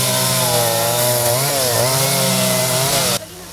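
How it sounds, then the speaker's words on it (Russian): A chainsaw carving a wooden sculpture at a speed-carving festival by the Katun river, loud and close with a steady high whine that dips under load, then cuts off abruptly near the end. "Идти на звук пилы"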